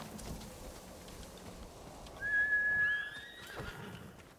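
A horse in the samurai game Ghost of Tsushima gives a loud, clear whinny midway through, with faint hoof sounds and ambient outdoor noise around it.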